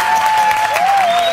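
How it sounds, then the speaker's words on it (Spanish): TV studio audience applauding for guest Daisy May Queen at the close of a morning show, a loud burst of steady clapping with a thin tonal whine gliding beneath. "Aplauso para Daisy McQueen."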